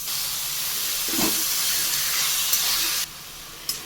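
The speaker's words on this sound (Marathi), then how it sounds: "इथे मी आठ कांदे बारीक कट करून घेतले आहेत ते मी टाकतो तेलामध्ये" Eight finely chopped onions hit hot oil in a pan and give off a loud, continuous broadband hiss and sizzle. The sound cuts off abruptly near the end.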